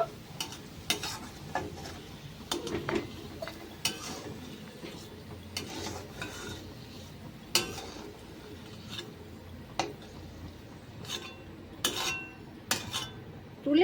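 A spatula scrapes and clinks against a pan as deep-red fried onion and garlic are lifted out, with soft sizzling of hot oil between sharp, irregular metal taps.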